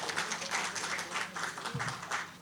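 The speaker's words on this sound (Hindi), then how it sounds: "ज़ोरदार तालियां आप सभी महारथी के लिए" Steady crowd applause with dense clapping throughout, fairly loud and continuous, with no pauses, at a book festival conversation with poets and writers.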